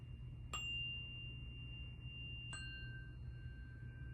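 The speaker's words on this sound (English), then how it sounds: "you can also use Zen chimes like these" Zen chimes are struck twice, about two seconds apart, each a bright metallic ding that rings on in a long, clear sustained tone over a low background hum in a quiet room.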